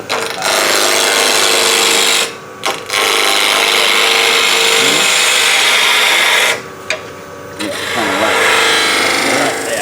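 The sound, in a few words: wood lathe spinning up to about 1,500 RPM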